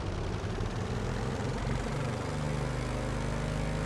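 A Pelican model airplane engine drones loud and steady during takeoff, its pitch sweeping and shifting with no talk over it.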